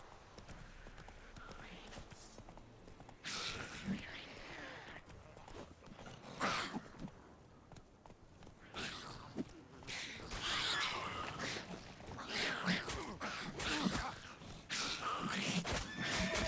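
Horse hooves clop and a horse neighs repeatedly in The Witcher 3: Wild Hunt video game, fairly faint, with rustling ambience and scattered game sounds throughout.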